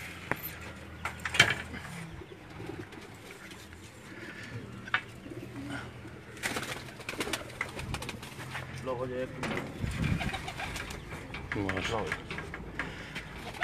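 Pigeons coo steadily in a loft, soft throaty calls repeating close by with rustling and flutters, while someone talks over them throughout.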